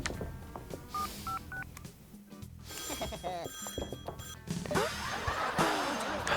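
Telephone number dialed in the video game Neighbours Back From Hell: a quick run of electronic keypad tones and beeps with clatters and game effects, no talk over it.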